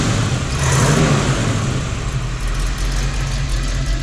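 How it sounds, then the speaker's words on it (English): A restored 1957 Chevrolet Corvette, warmed up, revs close by with a loud, deep engine rumble that swells briefly before holding a steady throaty drone. "Go ahead and rev it up a little bit."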